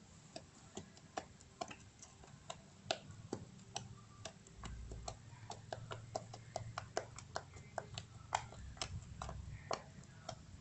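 Soft, rapid clicking and ticking from poking a squishy material, many small taps in an irregular rhythm, close and fairly quiet.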